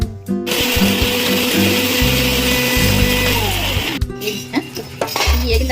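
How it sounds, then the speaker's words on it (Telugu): A kitchen mixer grinder whirs loudly, blending garlic, coconut, green chilli, ginger and cashews into paste, the motor changing pitch as it runs, with a brief stop and restart partway through. "వెల్లుల్లి, కొబ్బరి, పచ్చిమిర్చి, అల్లం, జీడిపప్పు, పువ్వులు ఇది పేస్ట్ కొట్టుకోవాలి."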